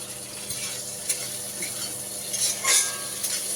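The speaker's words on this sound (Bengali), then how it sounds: "একটুখানি করলা ভাজা করছি" Bitter gourd frying in a pan in a home kitchen, a soft steady sizzle with occasional scraping and stirring clinks, a brief louder stir near the end, no voices.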